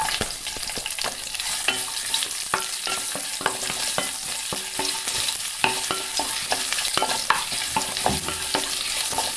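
Ginger with curry leaves frying in hot oil for a mixed vegetable stir-fry, a loud, dense, continuous crackle and sizzle with frequent ladle scrapes and taps against the pan, close up and without talk.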